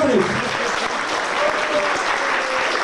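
A crowd of guests at a farewell gathering breaks into full, dense applause, loud and sustained throughout, with a voice briefly audible over the clapping near the start.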